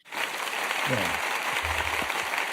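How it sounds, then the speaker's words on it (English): A short burst of canned applause plays as a sound effect on a sports talk show, a dense, even wash of clapping with a voice briefly heard over it. "That's when you need to hit the applause button"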